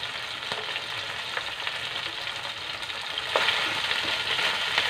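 Oil sizzles and crackles steadily in a pan as dalag (snakehead fish) fries, a constant frying hiss with small pops, growing a little louder toward the end.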